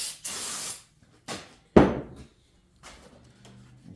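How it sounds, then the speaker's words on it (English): Compressed air blasts the parts of a C5 Corvette LS6 cylinder head dry in several short, loud hissing bursts with gaps between them, one sharp strong blast standing out, and no talking. "Clean those off, and we'll dry them off with some compressed air."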